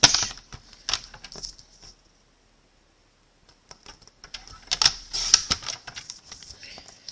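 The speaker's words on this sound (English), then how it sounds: "I'm going to cut this 2 inches to match" Cardstock is trimmed to size with a paper trimmer for a die-cut card project, bringing sharp close clicks and scraping cuts in two bursts separated by a short silence.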